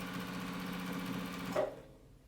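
JUKI sewing machine top stitching a quilted laptop bag, a steady mid-pitched mechanical whir running evenly before slowing and stopping near the end, followed by quiet.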